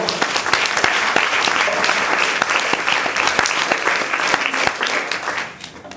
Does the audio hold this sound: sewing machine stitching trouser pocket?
no